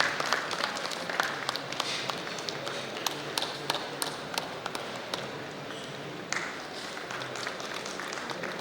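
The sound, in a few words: conference audience applause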